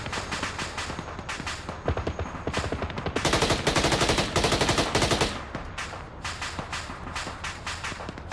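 Rapid automatic gunfire in a military shooter set on Altis, with dense rattling bursts and scattered single shots. It grows heaviest in the middle, then thins to intermittent cracks.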